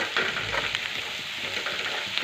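Continuous close sizzling of turmeric and coriander frying in oil, with small crackles and stirring scrapes throughout.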